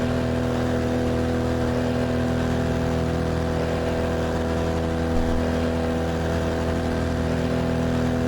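BMW M4 GT3 race car engine droning steadily at Imola in iRacing, a loud continuous tonal engine note holding near-constant pitch throughout with no talk.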